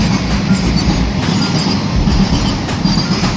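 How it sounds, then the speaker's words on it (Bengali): A long freight train rolls past a railway level crossing, a loud continuous rumble of wagons with rhythmic wheel clatter and faint squeals, close by and steady throughout. "ও আর রেল যাইব, তারপরে ক্রসিং খুলবো, তারপরে রওনা দিব আবার।"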